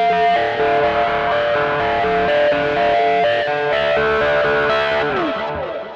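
A Gretsch electric guitar played through the phaser of a TC Electronic Plethora X3 pedal gives sustained, distorted chords with a sweeping, swirling tone. They stay loud and steady throughout and fade slightly at the very end, with no voices.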